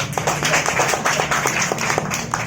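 An audience at a community meetup claps briefly, a brisk run of uneven hand claps heard close and fairly loud for a couple of seconds.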